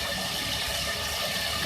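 Water pours steadily into chana dal in a cooking pot for a korma, a continuous loud splashing gush with no pauses and no voices.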